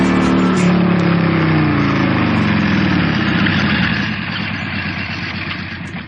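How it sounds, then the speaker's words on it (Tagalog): A motorcycle engine idles steadily close by, a continuous low rumble with mechanical chatter that softens slightly toward the end, with no talk over it. "Sakay lang diri sa akong motor."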